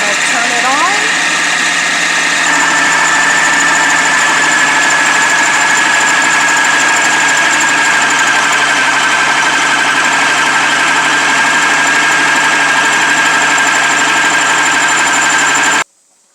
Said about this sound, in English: there's my 8 tablespoons of molasses in there, and I'm going to turn it on